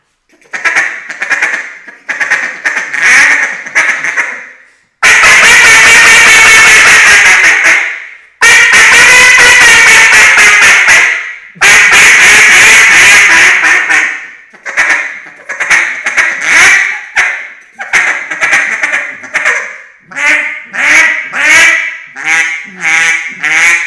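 A duck call is blown loud and close. Short quacks come in bursts, then several long drawn-out hails, then a fast, choppy feeding chuckle, with no talking.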